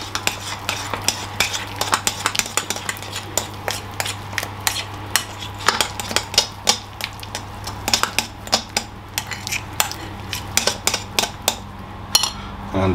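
A spoon stirring half a banana into a post-workout meal in a bowl, giving a steady run of light clinks and scrapes against the bowl, close and fairly quiet over a low steady hum.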